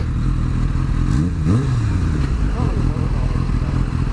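A Kawasaki H2 motorcycle engine runs close by with a steady loud roar and short rising revs, while people talk over it.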